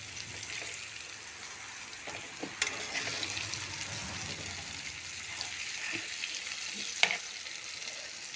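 Spiced young jackfruit slices fry in a pan with a steady, close sizzle, broken by a few light scrapes and taps of turning them over.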